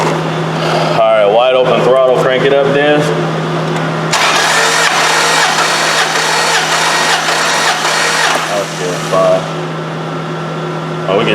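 Dodge 4.7 engine cranking during a compression test, a loud steady starter churn running for several seconds, with a person talking over it at the start.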